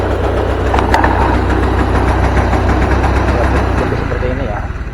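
A Honda Vario 110 scooter engine held at half throttle, running rough and stuttering from a weak spark, a loud steady close drone with a drop in pitch near the end.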